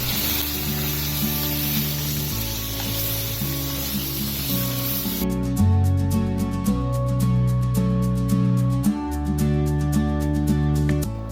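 Chicken sizzles and fries in oil over a high flame for chicken karahi, a loud steady hiss that runs throughout under background music.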